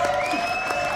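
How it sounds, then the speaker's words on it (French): A studio audience applauding a guest on a French television show, a steady dense wash of clapping that is close and loud, with no talking. "applaudissements donc pour Anthony Puravo qui sera là tout à l'heure"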